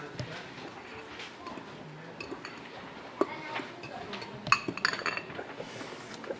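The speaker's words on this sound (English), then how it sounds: "I can just mix this right up here." Utensils faintly clink against a dish as food is stirred during a church cooking demonstration, with scattered small taps over a low murmuring room.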